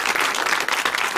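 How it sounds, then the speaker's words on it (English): A short burst of audience applause at a cultural talk, brisk and fairly loud clapping filling the moment on its own. "Give them a nice round of applause."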